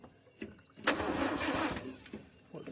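A Land Rover Series 2 found on a farm, its engine cranking briefly and then catching into a rough, loud rev that holds for about a second before dropping back, with faint voices nearby.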